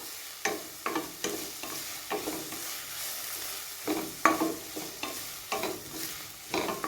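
Onions with mint and coriander sauté in hot oil for a mushroom pulao, a spoon scraping and stirring the pan in steady repeated strokes over a soft, constant sizzle, fairly close, with no talking.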